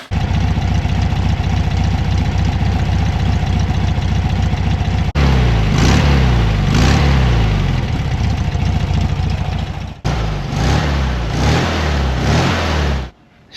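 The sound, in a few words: 1970 VW Beetle engine running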